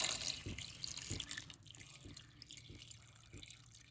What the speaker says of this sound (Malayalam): ഇനി അടുത്തായിട്ട് നമുക്ക് ഇതിനകത്തേക്ക് വെള്ളം ഒഴിച്ച് കൊടുക്കാം.